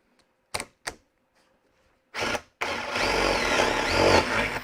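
A jigsaw cuts a hole in wood, starting from the bottom of the hole: a few short taps come first, then the saw starts in a brief burst and settles into a loud, steady buzzing cut.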